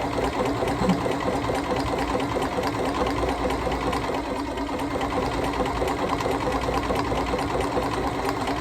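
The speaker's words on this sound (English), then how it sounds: "We've pre-programmed our buttonholes, so we're going to do another buttonhole." A Bernina Series 3 sewing machine stitches a pre-programmed buttonhole, its steady rapid needle chatter running continuously and close for the whole stretch with no talking.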